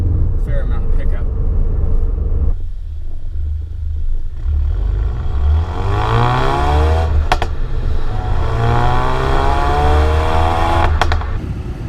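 A 2016 Ford Focus RS cruising in third gear around 2,000 RPM, its engine a deep steady drone that swells and rises in pitch under acceleration, with someone talking over it.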